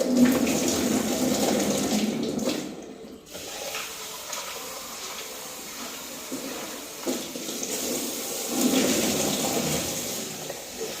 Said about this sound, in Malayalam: അപ്പോൾ അരി കഴുകി ഇട്ടേക്കാമെന്ന് കണ്ടു